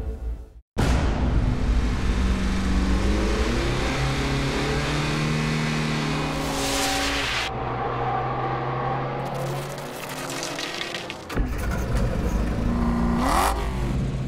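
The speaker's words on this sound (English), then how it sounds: "Engine noise and fast cars on a racetrack." Vintage race cars roar past on a racetrack, engines loud and close, with rising and falling revs as they accelerate by, a sudden cut near the middle, then more passing cars.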